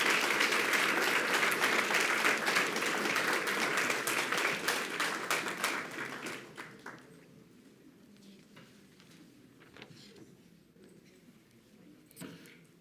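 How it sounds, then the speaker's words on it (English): Applause at a Weslaco school board meeting greets high school track athletes entering the room, loud crowd clapping for about six seconds, then fading to a few scattered claps and quiet room noise. "Let's give them a round of applause as they enter the room."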